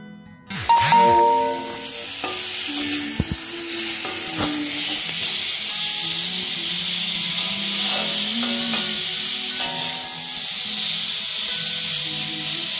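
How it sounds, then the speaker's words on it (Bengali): Fish curry cooking in a pan at home, with a steady broadband sizzle and frying hiss running throughout, punctuated by a few clattering utensil knocks and scrapes near the start. "রান্না করছে মাছের ঝোল"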